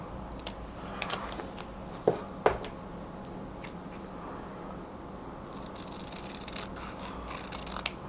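Scissors trimming the edge of a craft feather, a few sharp, close snips standing out from a quiet room background, with a couple more faint cuts spread across the clip.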